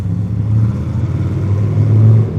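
A Honda Shadow 750 Aero motorcycle engine rumbles loudly at low revs while idling and rolling through curves, a deep, steady throb that swells slightly toward the end, heard close with no talking.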